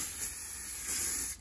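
Self-tanning spray hisses from a nearby can in one steady burst of about a second and a half, swelling slightly midway before cutting off.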